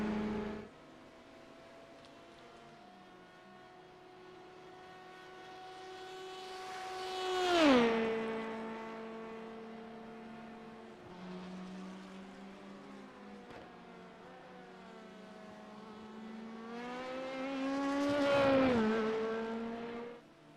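A sportscar in a racing game at Le Mans drones at steady engine pitch, then swells and drops sharply in pitch as it sweeps past, settles, and passes again in a second rising, falling whoosh.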